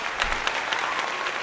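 A short applause sound effect triggered by a button during a UFC fight watch-party livestream, a brief burst of crowd clapping at fairly loud level.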